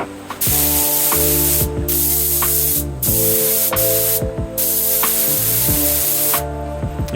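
An Alfa Romeo 155 under restoration has its sills spray painted, loud hissing bursts from the spray gun starting and stopping about five times, heard up close over a constant mechanical hum.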